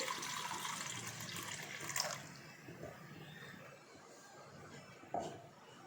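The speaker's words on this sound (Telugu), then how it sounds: "కొద్దిగా బౌల్లో వాటర్ తీసుకొని" Water runs and splashes steadily into a bowl of ragi flour, louder at first then settling into a softer trickle, with a couple of brief clinks.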